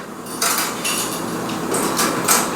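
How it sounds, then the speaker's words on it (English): Rice noodles dropped into a pot of boiling water in a home kitchen, heard as a run of clattering, clinking knocks against the pot over a steady background hiss, with no talking. "it's time to cook the rice noodles, and you just throw them in."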